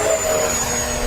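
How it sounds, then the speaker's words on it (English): An FMS Rafale 64mm electric ducted-fan RC jet makes a fast full-throttle pass, giving a brief, loud, steady rushing roar with a high turbine-like whine and no talk. "All right, full throttle, Steve. Let's come by fast."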